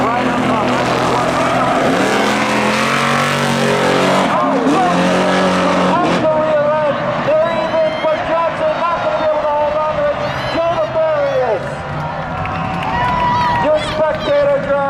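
Race car engines roar at a Seekonk Speedway spectator drag race during a midsummer Monster Truck Smash event, including a 1995 Dodge Stealth, with sustained loud engine noise running beneath an announcer's continuous talk.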